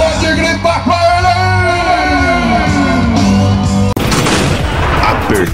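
Crowd at a rodeo night at a cowboy festival in Brazil shouting and cheering, with a sustained wavering shout over a background din, then a sharp cut into a louder burst of cheering and noise.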